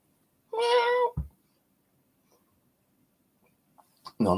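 A cat gives one clear, drawn-out meow close by, then a thump and a long quiet stretch before another short meow-like sound starts at the end.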